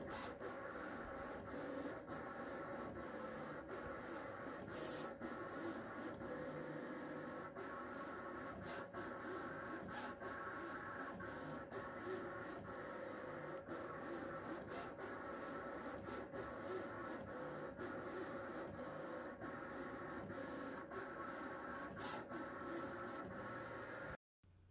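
Printer producing arcade cabinet vinyl foil: a continuous whirring drone broken by regular clicking passes of the print head, steady and close throughout.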